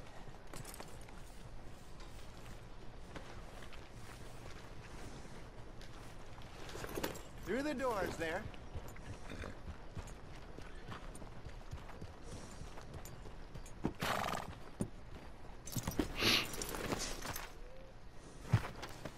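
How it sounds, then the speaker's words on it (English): Horse hooves clop along toward a stable in the video game Red Dead Redemption 2, a soft, uneven walking rhythm heard faintly beneath near-constant talking voices. "Leva o seu cavalo pro estábulo."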